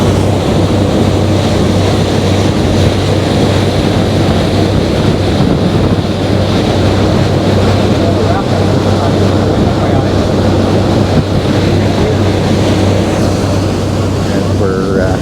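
Steady wind buffeting and wave wash with a constant low engine drone from a boat heading out on open water for a whale watching tour near Juneau's Mendenhall Glacier, loud and continuous throughout.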